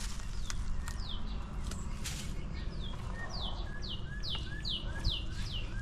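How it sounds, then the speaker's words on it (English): Birds sing in a garden yard in June, a series of short bright downward-sweeping chirps repeating in quick succession, fairly close over a constant low outdoor rumble and a few soft knocks. "Aren't those birds pretty?"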